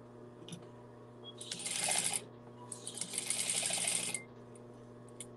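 A sewing machine stitching a dart on a memory bear's side head piece, two close, steady whirring runs of rapid stitching separated by a short pause, with no talk.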